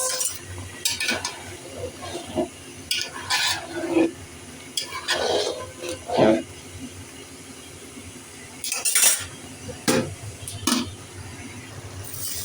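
Broken-rice khichuri-style rice, boiled and bubbling in a pot, is stirred with a spoon in several bursts of scraping and clinking, and a faint sizzle sits underneath.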